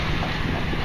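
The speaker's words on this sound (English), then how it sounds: "there's a storm brewing. Getting windy." Strong wind buffets the microphone outdoors at a grading site as a storm builds, a brief loud rumbling gust with no voices.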